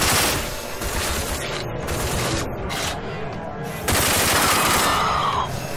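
Rapid bursts of automatic gunfire in the video game Rage, loud and continuous with dense overlapping shots and a brief pause before another heavy volley near the end.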